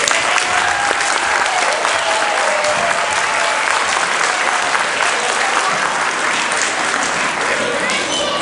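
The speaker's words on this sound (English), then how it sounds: "So I just want to give another round of applause to the children" An audience gives children a sustained round of applause at a school American symbols parade, dense and loud throughout with faint cheering mixed in.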